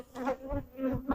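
Honeybees buzz around an open hive with exposed honey, a faint, close, wavering drone that swells and fades as individual bees pass by.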